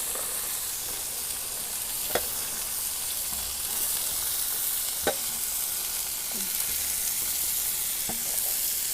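Cabbage and carrot sautéing in a pan for vegetable fried rice give a steady, loud hissing sizzle, with a few sharp spatula knocks against the pan spaced a few seconds apart, with no voices.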